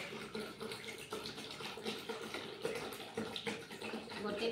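Water poured into a container as a litre is measured out for a homemade sugar-and-salt oral rehydration solution, a steady splashing flow running throughout at moderate level.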